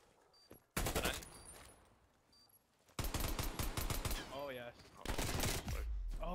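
Video game gunfire rips out in long, loud automatic bursts, each run of rapid shots lasting a second or two, with short gaps between them.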